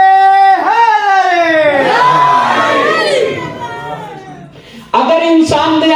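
A crowd at a religious gathering for a Rajab birth celebration at an imambargah in Khushab chants slogans in loud, rising unison, swelling and fading, then a fresh burst of shouting near the end.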